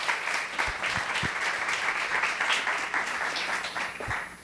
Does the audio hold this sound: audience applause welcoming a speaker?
yes